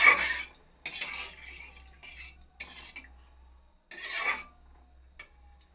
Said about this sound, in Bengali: দুধটা নিয়ে নাড়িয়ে নেব